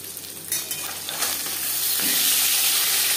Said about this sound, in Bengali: প্রথম ব্যাচের মাছ ভাজা হয়ে গেছে